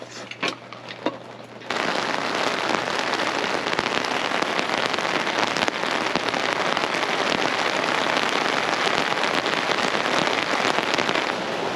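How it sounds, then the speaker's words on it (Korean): Heavy rain pours steadily at a campsite in Hongcheon, a dense hissing drumming on a surface that starts suddenly and continues loud and unbroken with no voices. "비가 너무 많이 와서 비가 안쪽으로 물이 다부딪치고 있습니다."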